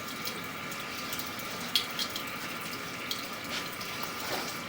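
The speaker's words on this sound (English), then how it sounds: "we're running some water now, and I'm gonna bounce it around a little bit" Tap water runs steadily into a drain in a house at 821 Perry St, a continuous hiss with small splashes as the flow is bounced around to break up a clog.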